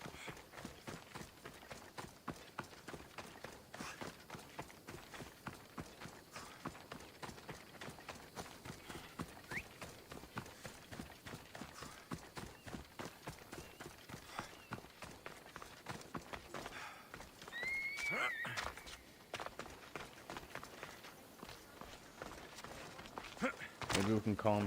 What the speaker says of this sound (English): I thought I just heard his hooves.